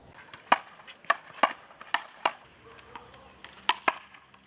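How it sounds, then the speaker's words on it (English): Sharp, echoing smacks of a handball striking the court wall and floor in Philadelphia, a quick irregular series of loud slaps in a reverberant space. "That is the sound of handball"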